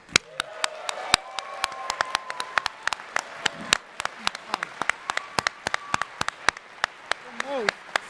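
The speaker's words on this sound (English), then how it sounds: "let's hear from a round of applause" Scattered handclaps ring out from a convention closing-ceremony audience, sharp and uneven across the whole stretch, with someone talking over them.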